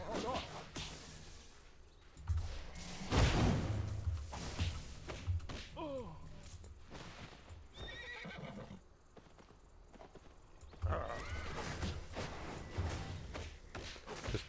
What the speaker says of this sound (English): didn't mean to get on my horse